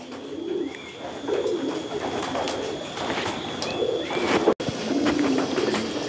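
Racing pigeons coo in overlapping low, throaty bursts, several birds close by, continuous and fairly loud, with a sharp brief knock near the end.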